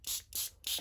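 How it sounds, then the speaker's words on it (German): Water from a spray bottle misted onto watercolour paper for card making, three short hissing bursts in steady rhythm, close and clear with no talking. "sprühen hier einmal Wasser drauf"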